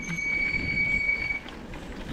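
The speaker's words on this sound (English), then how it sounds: "Brakes squeaking." Brakes squeal on a vehicle heading downhill, a steady high-pitched whine holding for over a second, then fading under a low, continuous rumble of motion.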